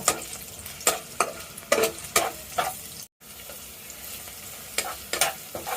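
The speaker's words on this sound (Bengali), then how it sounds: "তারপরে দেব পেঁয়াজ, এখন নেড়ে দেব।" Onions frying in oil in a pan as they are stirred, a steady sizzle broken by several distinct scraping strokes, close and clear with no talking.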